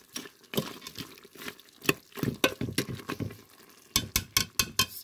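Free-range chicken cooks in sauce in a pot, with irregular clacks and scrapes of a spoon stirring against the pot, close and sharp, quickening into quick taps near the end.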